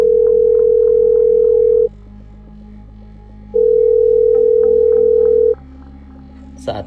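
A phone line rings out while calling someone, giving two long, loud, steady tones, each about two seconds, separated by a pause, over a low background hum.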